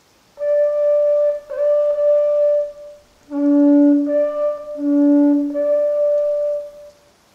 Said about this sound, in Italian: Questa è una conchiglia della prefettura di Yamagata.